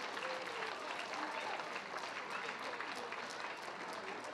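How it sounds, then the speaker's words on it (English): Crowd applause at a boxing match for two young fighters after three rounds, a dense, steady wash of clapping from a large audience, fairly distant and even in level, with no break over several seconds. "Give a big round of applause to these two young warriors"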